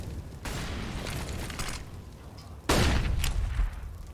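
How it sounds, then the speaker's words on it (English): Grenade blasts and a flashbang go off in a Counter-Strike match on the Nuke map, a broad explosive rumble followed by a louder, sharper burst that holds for about a second before fading. "Little too strong, the flashbang"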